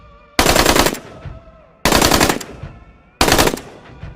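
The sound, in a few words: muzzle loader gunshots in background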